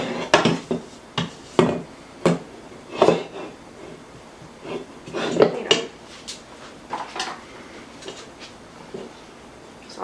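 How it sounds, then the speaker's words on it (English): A spatula scrapes rugelach dough from a mixing bowl in a home kitchen. Short irregular scrapes and knocks sound close by, with a pause between each stroke. "There's a lot of dough in here, I just can't get it with this spatula"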